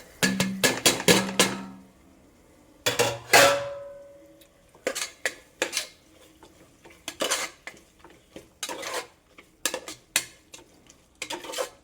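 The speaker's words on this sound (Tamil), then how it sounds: "நான் வந்து இப்போ 2 கேரட் பீன்ஸ் போட்டு நல்லா மிக்ஸ் பண்ணிட்டேன்" A spoon clanks and scrapes against a pot as carrots and beans are stirred into biryani, in repeated metallic bursts with pauses between them, close and fairly loud.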